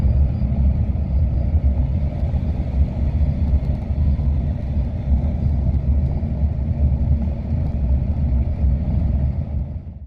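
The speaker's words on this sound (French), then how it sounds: "avec la circulation, les voitures roulaient légèrement moins vite que moi" Steady low rumble of cars moving in traffic on a national road, a continuous broad engine and tyre drone that stays close and even throughout with no break.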